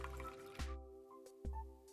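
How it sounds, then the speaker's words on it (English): Warm water poured onto a white plate while preparing summer rolls, heard as a quiet trickle with a few sharp drips and splashes in close, faint sound, no talking. "Add warm water to a white plate."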